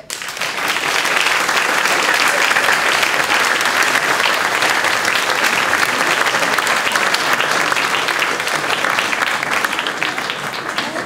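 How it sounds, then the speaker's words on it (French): A large audience applauds a bishop with sustained, loud, even clapping that holds steady from start to finish, with no voices rising above it. "je vous demande d'applaudir Monseigneur l'évêque"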